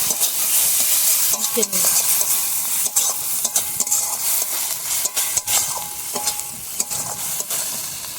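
Spice paste stir-fries in oil in a home kitchen pan, sizzling loudly and continuously up close. Sharp intermittent scrapes and clanks from a stirring spoon cut through the sizzle every second or so.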